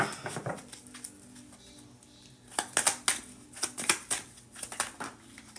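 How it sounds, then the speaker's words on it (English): A deck of tarot cards is shuffled by hand, giving soft irregular flutters and snapping riffles that come in quick bursts, close and fairly quiet, with no talk. "Let me shuffle it."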